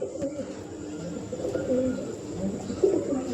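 Pigeons coo softly in a coop, low rolling calls from several birds overlapping at close range, with one slightly louder coo near the end.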